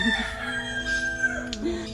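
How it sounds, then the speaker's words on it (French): A rooster crows at moderate distance with a sustained, wavering call lasting about two seconds over faint background noise, with no speech. "ici c'est le combat de coq toutes les 2 minutes"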